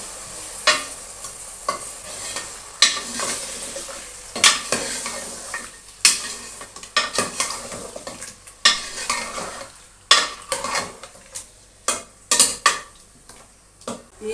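Mutton pieces and marrow bones frying in a pot for nihari, stirred briskly with a metal spoon: repeated loud scrapes and clanks against the pot over a continuous sizzle, with no voices.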